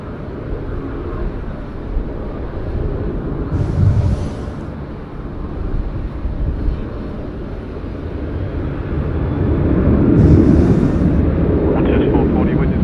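Airliner taking off from Sydney Airport runway 16 right, a broad steady engine roar that swells louder toward the end, with radio voices talking over it.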